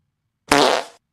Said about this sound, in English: Where's my fart button?